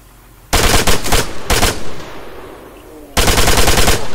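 Automatic gunfire in the video game Arma 3 Altis Life during an assault on a headquarters gate, three loud, close bursts of rapid shots separated by short pauses.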